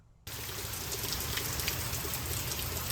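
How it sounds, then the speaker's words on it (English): Heavy rain starts abruptly and pours down steadily onto a street, a dense, loud hiss of drops striking a hard surface nearby. "look at that rain that's filling up the street"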